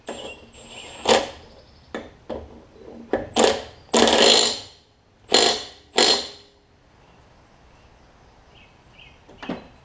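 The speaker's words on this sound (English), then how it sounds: "Torque the flywheel nut down." Mechanical clicks and clanks while a flywheel nut is tightened on a Craftsman Briggs push mower, a series of sharp close metallic impacts and ratchet-like bursts separated by short pauses.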